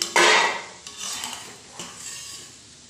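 Fried almonds are scraped from a pan onto a plate while making gond laddoo, giving a loud metallic clatter and scrape at the start, then lighter clinks and scraping of utensil on cookware.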